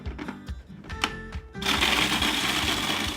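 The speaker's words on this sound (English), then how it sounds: "we are going to put them in our food processor and pulse them into crumbly cookie bits" A food processor whirs in short bursts as it pulses cooled cookies into fine crumbs, then settles into a steady, loud continuous grind with no talking.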